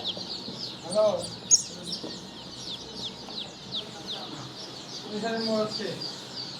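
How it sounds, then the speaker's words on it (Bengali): Chickens cluck and call softly nearby, with a few sharper squawks over a steady background hum. "এই যে এটা কিন্তু মোরগ আর এটা কিন্তু মহিলা"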